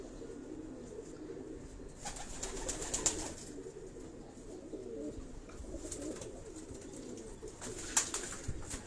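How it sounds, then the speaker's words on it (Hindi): Soft, low cooing of Khaksara pigeons with their young repeats at an easy pace, with occasional louder rustles and knocks nearby, on a rooftop in Karachi. "ये कबूतर आप देखें, ये कबूतर आप देखें, ये इनके बेबी पिजन है साथ।"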